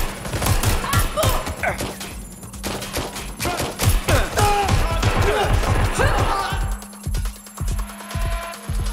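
Rapid gunfire in a firefight in the video game Watch Dogs Legion: dense bursts of automatic shots and sharp single cracks come in close, loud clusters with brief gaps, with a few shouted voices mixed in.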